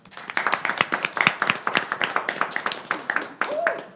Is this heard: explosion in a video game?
no